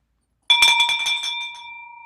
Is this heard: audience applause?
no